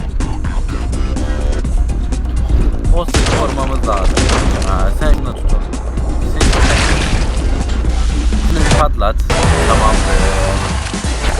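Gunfire in a shooting video game, with dense bursts of rapid shots and booming impacts filling the whole stretch, loud and close, with a commentator talking over the action at times.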